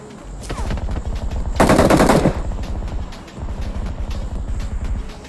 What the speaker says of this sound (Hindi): लेकिन चारों बाजू से गोली पड़ रही है